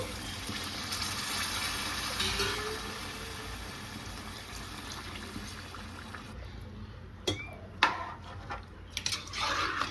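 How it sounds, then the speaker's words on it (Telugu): Water pours steadily into a pressure cooker with country chicken pieces until they are covered, followed by a few sharp metallic clinks nearby. "ముక్క మునిగే వరకు కూడా వాటర్ వేసుకోండి"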